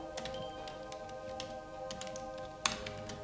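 Keys on a computer keyboard are tapped in a light, irregular patter of small clicks during terminal work, one sharper keystroke standing out near the end, quiet and close.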